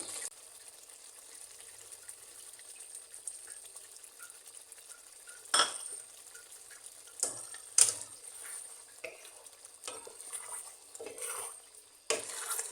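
Bull tail qorma frying in a pot, a steady soft sizzle under occasional scraping clinks of a spoon being stirred against the metal.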